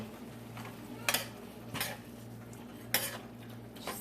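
A spoon clinks against a pot of boiling vegetables being stirred, a few sharp separate metallic knocks over a low steady hum of the stove and kitchen.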